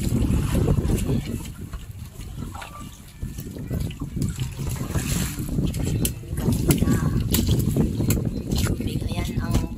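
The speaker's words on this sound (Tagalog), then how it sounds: "Ayan ang bangka ni Kuya." A boat on the water along the Maasim shoreline, heard as steady wind-buffeted water and engine-like rumble, with people talking nearby throughout.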